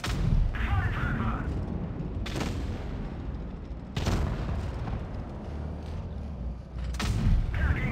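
Foch tank destroyer gunfire in the tank game WoT Blitz: loud booming cannon shots at irregular intervals over constant engine and battle rumble, with someone talking between the blasts.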